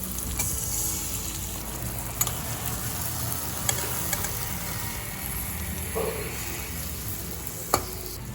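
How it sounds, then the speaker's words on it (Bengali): Flat beans curry simmering in a pan as a ground coriander leaf and green chilli paste is stirred in: a continuous close sizzle with occasional spoon taps and scrapes against the pan. "ধনে পাতা বাটাটা ভালো করে মিশিয়ে দেবো"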